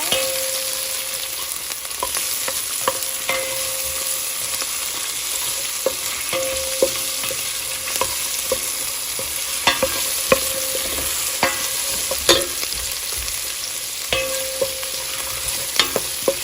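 A large batch of onions sizzles steadily in a hot pan while a utensil stirs through them in repeated soft scrapes and taps, close and without talk.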